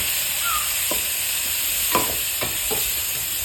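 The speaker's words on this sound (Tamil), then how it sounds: "உள்ளியை நல்லா வசக்கணும்" Onions and tomato sauté in a pan for chicken biryani, with a constant bright sizzle and several distinct spoon scrapes in quick succession, heard close with no voices.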